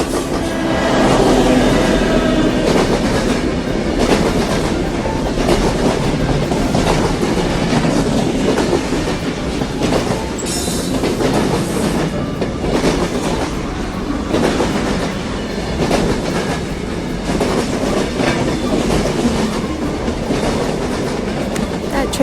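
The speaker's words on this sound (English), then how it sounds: "That was awesome, but that train went so fast." A train in Scotland rushes past at speed, its wagons clattering in a steady clickety-clack that stays loud and close throughout, with a brief metallic squeal partway through.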